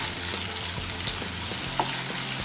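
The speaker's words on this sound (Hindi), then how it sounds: "प्याज को थोड़ा सा भूनने के बाद ये हम जिंजर गार्लिक का पेस्ट है" Ginger-garlic paste sizzles in a pan of lightly fried onions while dhaba-style dal palak is cooked, giving a steady, close hiss of frying with faint stirring scrapes throughout.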